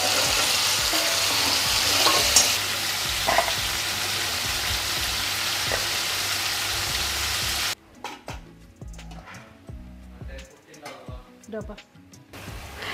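Spices tempering in a hot pan for a mixed-vegetable kadamba sambar with yellow pumpkin and other vegetables: a steady loud sizzle for about eight seconds, then quieter crackling with scattered pops and stirring clinks.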